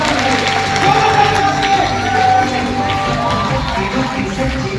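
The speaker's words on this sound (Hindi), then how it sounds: "एक बार उस शख्सियत ग्रेट पर्सनालिटी के लिए एक बार दिल से जोरदार ताली होनी चाहिए" A large audience at an AWPL business seminar in Lucknow claps and cheers continuously, a dense, loud, sustained roar of many hands and voices with no break over the few seconds.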